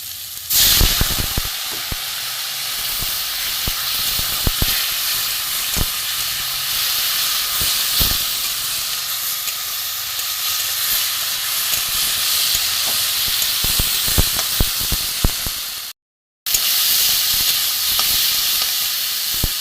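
Water poured into a pan of spiced potato curry hisses into steady, loud steam and sizzle that fills the whole stretch without pause, with a few sharp crackles and one brief dropout near the end.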